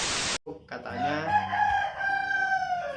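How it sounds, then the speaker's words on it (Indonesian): A rooster crows once in a long, drawn-out call that begins just after a short burst of noise and carries close and loud to the end. "tiba-tiba ada ayam di belakang."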